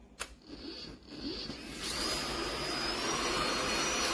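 A Bosch Unlimited 7 cordless stick vacuum cleaner running with a steady whine and airflow hiss that grows slightly louder after a couple of seconds, close up and alone.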